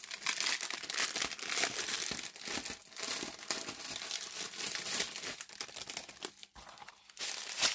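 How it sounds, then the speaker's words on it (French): Plastic packet of diamond painting diamonds being opened, giving continuous close crinkling and crumpling of plastic with small rustles throughout and no talking. "je vais ouvrir le paquet"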